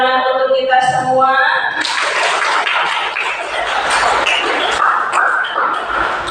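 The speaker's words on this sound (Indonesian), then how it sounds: "Boleh tepuk tangan untuk kita semua." A classroom group of teachers and students breaks into a burst of sustained clapping just after a short spoken line, and the applause fills the room loudly to the end.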